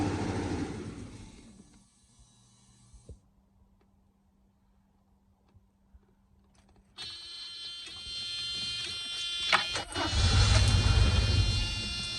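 A Mercedes 420SEL engine runs briefly on fuel straight from the tank; loud broadband running noise fills the opening seconds, fades to near silence with a faint steady hum, then a strong roaring run returns and builds toward the end.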